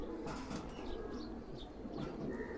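Imported Pakistani pigeons coo softly and flutter their wings nearby, with scattered brief chirps and flaps over a dull background hum.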